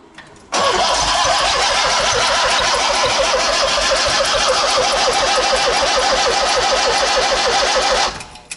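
A small engine of roughly 10 to 15 horsepower in a speed shop workshop fires up abruptly and runs loud and steady with a rapid, even chug for about eight seconds before cutting off.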